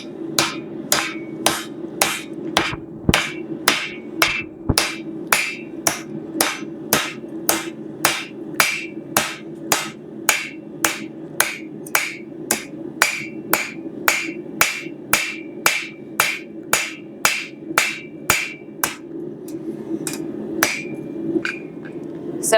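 A hammer strikes a stainless steel spoon set in a swage block, giving around forty sharp metallic blows in a steady, close, evenly spaced rhythm over a low background hum.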